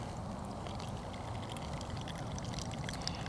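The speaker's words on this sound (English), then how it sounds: "I'm gonna pour some water in over the coffee and we're gonna let it bloom" Hot water is poured steadily over coffee grounds in a pour-over brewer at a motorcycle campsite, making a continuous, soft, close splashing hiss with no break.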